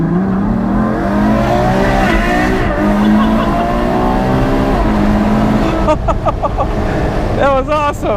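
A Ferrari FF's engine roars loudly as its tires break loose and skid, a sustained engine howl that shifts pitch, followed by exclamations and laughter from people inside the car.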